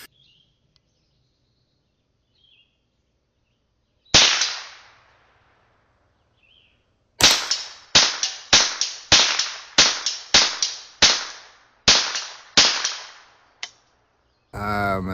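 Sharp cracks from a .22 LR rifle fired outdoors at a target about 50 yards off: one lone shot, a pause, then about ten shots in fairly quick succession, each loud and crisp with a short decaying echo.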